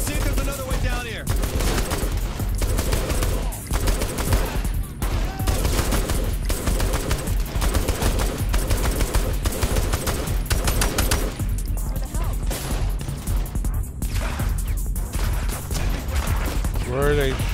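Saints Row The Third Remastered gunfight: sustained loud bursts of automatic fire and scattered single shots crackle almost continuously, with a voice speaking over the shooting now and then.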